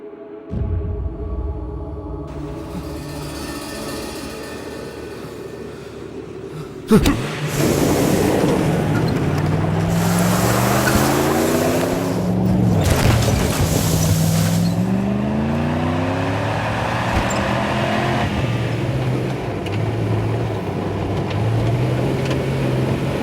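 Vehicle engine running and revving as it is driven, a steady loud motor drone with rising and falling pitch sweeps, starting with a sharp thump and continuing throughout.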